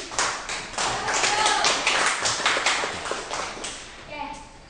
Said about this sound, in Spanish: un aplauso para Leslie